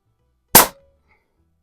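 One sharp, loud crack from a Pinty Striker .25 caliber bullpup air rifle, close by and brief, with a faint short ring after it, then silence.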